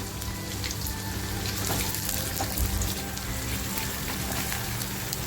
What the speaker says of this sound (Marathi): कांदा टाकून कांदा लालसर करून घेते आहे बघा